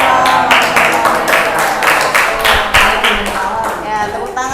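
A classroom gives a burst of applause after a group presentation, with quick overlapping claps running steadily under a voice that carries on talking.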